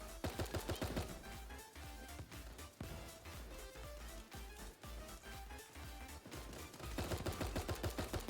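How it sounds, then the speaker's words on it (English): Rapid volleys of video game gunfire against bots, dense bursts of shots repeating through the whole stretch, loudest at the start and end, with music tones running underneath. "A lot of shots coming down range there as well"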